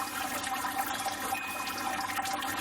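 Wort drains steadily out of a mash tun while brewing a chocolate, coffee, oat and vanilla porter: a continuous, fairly quiet rush and splash of liquid running without pause.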